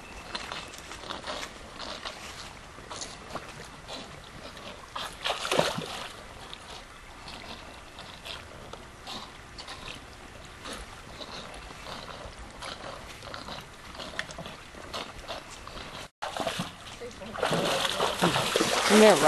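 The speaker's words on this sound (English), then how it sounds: "And they're riding through recessed creek bed." Horses splash and clatter through a recessed creek bed strewn with slick rocks, with broadband water splashing and hoof knocks running throughout at moderate distance, and people talking over it.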